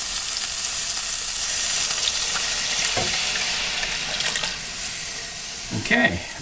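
Soup is poured into a hot pan on the stove, giving a steady broadband sizzle with watery splashing and a few louder bursts near the end of the pour.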